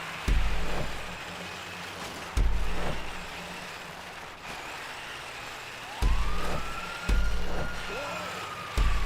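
A police siren in the GTA Online video game rises and falls as a faint wail in the distance, under heavy rhythmic engine thumps and game noise.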